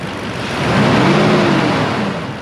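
A Lexus GX460 engine revs up from idle, the roar swelling to a steady peak and easing slightly, broadband and close with no talk over it.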